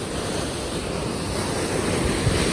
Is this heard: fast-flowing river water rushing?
yes